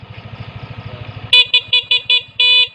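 A Yamaha Aerox scooter's idling engine putters, then a bright horn blares in a run of short rapid toots, ending with one longer blast, loud and close.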